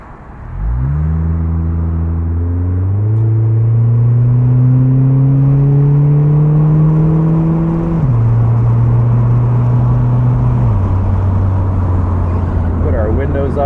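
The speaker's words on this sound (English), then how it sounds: "Actually, the wind buffeting is not that bad." Steady wind rush and buffeting fill the cabin of a 2008 Mitsubishi Eclipse Spyder 4th-gen convertible driving top-down in the city, with engine hum rising and shifting gears underneath, loud and continuous.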